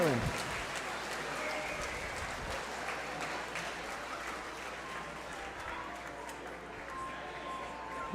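Crowd applauding at a Mardi Gras ball, a fairly quiet, steady spread of clapping heard from a distance, with a brief sound near the start.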